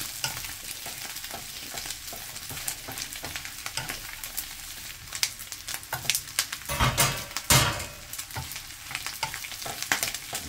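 Steady, close hiss of food frying in virgin olive oil, with bursts of crackle and a louder stir-like scrape partway through.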